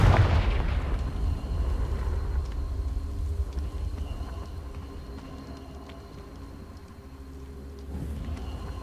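Confringo blasting spell cast in Hogwarts Legacy, a loud booming blast at the start rolling into a long rumbling decay with a hum of game ambience, and another thud later.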